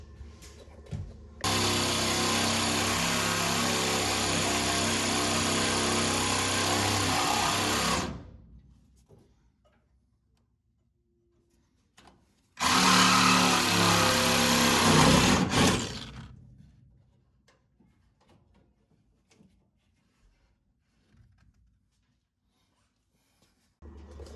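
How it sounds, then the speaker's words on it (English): A Sawzall reciprocating saw cuts through a truck's steel frame in two loud bursts, about six seconds and then about three seconds, a harsh buzzing rasp that stops abruptly between cuts and leaves near silence. "So I got each side cut here with the Sawzall, cut the back here or underneath the frame all the way to the end"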